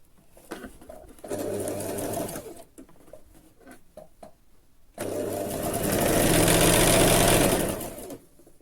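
A sewing machine stitches a side slit on a dress or kurti in two bursts, a short whirring run followed by a longer, louder steady hum, separated by quiet clicks and handling noises.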